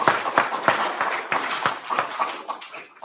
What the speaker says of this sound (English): Applause wasn't in the script.